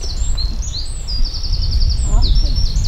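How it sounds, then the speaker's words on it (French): Birds calling from behind fir trees on Breton moorland near Locarn, with repeated high chirping phrases over a rumble of wind, fairly close and clear, with a brief low voice partway through. "Il y a plein d'oiseaux derrière les sapins là-bas."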